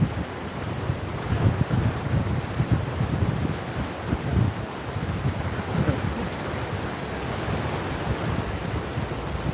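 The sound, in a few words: wind blowing at the beach in Hua Hin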